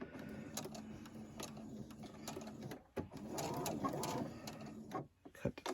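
A sewing machine back-stitching on a crew-neck garment being changed to a V-neck, running in short mechanical bursts with brief stops and sharp clicks between them, fairly quiet and close.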